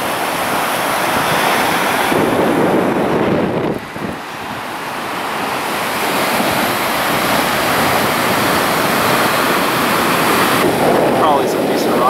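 Ocean waves and surf roll onto a beach on the Oaxaca coast, a loud continuous roar with breaking swells and heavy wind buffeting the microphone.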